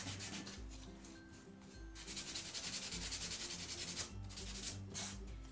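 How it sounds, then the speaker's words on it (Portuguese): Sandpaper rubbing over a wax-treated MDF wooden angel figure in country primitive style, a steady scratchy rasp running in continuous strokes, close and moderately loud, with no talking. "Eu lixo no geral aqui a peça, né?"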